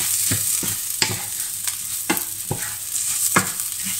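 A spoon scrapes through rice frying in a pan for risotto, with repeated stirring strokes every half second or so over a steady close sizzle.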